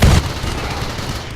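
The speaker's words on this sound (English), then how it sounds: "Oh, there goes one of my turrets." A burst of gunfire in the RimWorld video game as a defensive turret is destroyed, with a loud opening boom followed by a continuing rattle of shots.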